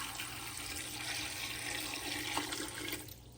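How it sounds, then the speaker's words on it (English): About a liter of clean water pours from a tap into a large pot holding peeled peaches, a steady broadband rush lasting several seconds with no talking, then it cuts off near the end. "I'm gonna be adding 1 liter of clean water"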